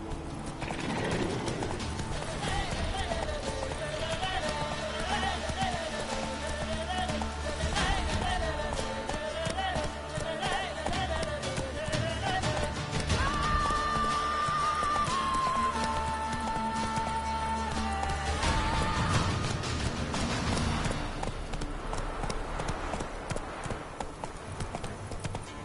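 Galloping horse hooves in The Witcher 3 drum a steady clip-clop rhythm, close and loud, with neighs and a game music score running alongside.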